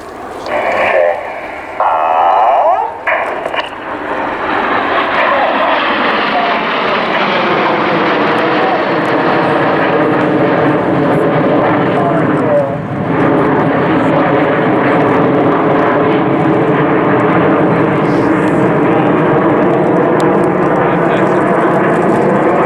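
RAF Red Arrows jets perform a flying display, a loud, sustained roar that swells after a few seconds and holds steady across the sky, with brief commentary near the start.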